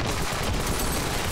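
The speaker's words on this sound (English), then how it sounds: "I've got a machine gun." Machine gun on a spider mech in the video game Ravenfield, firing as a dense, unbroken roar of rapid shots at a loud, steady level throughout.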